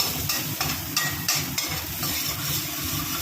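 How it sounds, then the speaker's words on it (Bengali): Garlic and ginger masala fries in a pan with a steady sizzle. Rhythmic stirring strokes cut through it every half second or so, close and fairly loud. "1 মিনিট মতন এটা নাড়তে নাড়তে ভেজে নেব"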